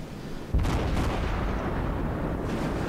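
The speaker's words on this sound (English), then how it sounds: "We're firing armor piercing." Main battery salvo from the cruiser Cleveland firing armor-piercing shells in World of Warships: one loud booming blast with a long rumbling tail, close and alone.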